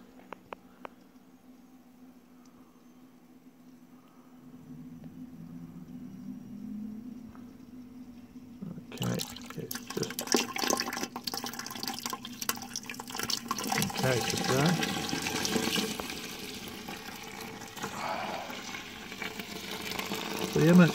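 Water runs from a tap into a Braumeister 20-litre brewing vessel during an IPA brewday, starting faintly and then becoming a steady, close splashing gush for the rest of the clip.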